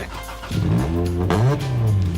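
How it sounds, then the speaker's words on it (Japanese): A Suzuki GSX motorcycle engine starts up and revs, its rumbling pitch rising and falling, close and fairly loud. "ちょっとエンジンかけてみて、これどんな音するわけこれ"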